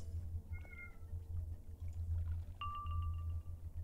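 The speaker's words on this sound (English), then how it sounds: "I heard a meow" A cat gives two short, faint meows a couple of seconds apart, heard indoors over a steady low hum.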